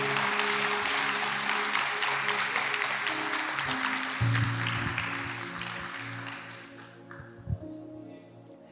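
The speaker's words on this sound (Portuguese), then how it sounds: "Você pode aplaudir a Jesus por isso?" A church congregation applauding during a sermon, a broad dense wash of clapping that fades gradually over several seconds while musical tones hum beneath.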